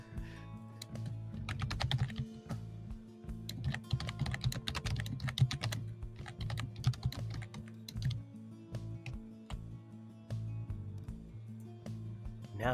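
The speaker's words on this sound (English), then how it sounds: "All I can hear is your vigorous typing away on your keyboard." Vigorous, continuous typing on a computer keyboard, close and quiet, with dense rattling keystrokes and brief pauses between busy stretches.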